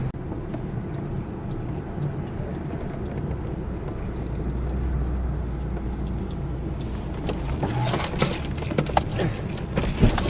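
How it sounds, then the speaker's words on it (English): A Ford V10 4x4 truck on 36-inch tires rumbles at low speed over curbs, a steady deep engine drone with wind buffeting the microphone and a few knocks and bumps near the end, no talking. "curbs don't really mean anything anymore. Going up them, going down them, doesn't really mean anything to this truck"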